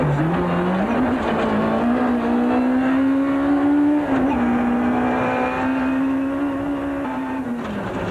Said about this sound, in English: this point, the cars are averaging well over 100 kilometers an hour